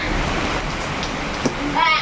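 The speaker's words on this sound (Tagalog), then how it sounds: "Ayan na, lakas-lakas ng ulan oh." Heavy rain pours down amid flooding, a dense, steady hiss filling the air close by, with children and other voices faintly audible under the downpour.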